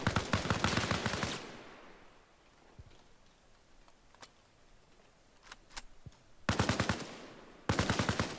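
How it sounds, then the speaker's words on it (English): Rapid automatic gunfire in the video game ArmA rattles out in loud, dense bursts at the start and again near the end, with scattered single distant shots in the quieter stretch between. "I believe he's firing blindly right now"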